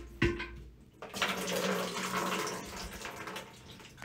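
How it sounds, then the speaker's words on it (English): Water from a removed toilet tank spills and splashes into a catch basin, starting with a short splash and then running as a steady, close pour. "There's still water down here, so you're definitely going to have water seeping, spilling."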